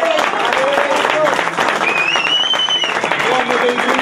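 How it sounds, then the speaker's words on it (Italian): Crowd applause at a golf club awards ceremony in Montecatini, dense sustained clapping with whistles and voices mixed in throughout. "estenderei l'applauso a Alberto Lombardi."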